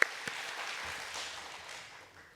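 A church congregation at a Friday prayer meeting applauds the middle and high school youth choir, a broad burst of clapping that starts sharply, holds steady and gradually fades.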